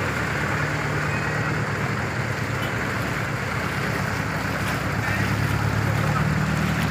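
A boat engine runs steadily on a long flooded route, a loud continuous droning rumble mixed with water wash, with no clear talking over it.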